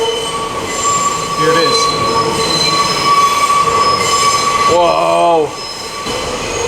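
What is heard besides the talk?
New York City subway train passing through City Hall station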